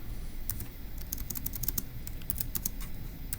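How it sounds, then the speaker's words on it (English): Rapid, irregular keystrokes on a computer keyboard, close and crisp, clatter in uneven bursts over a low steady room hum with no one talking. "let me go ahead and type that up"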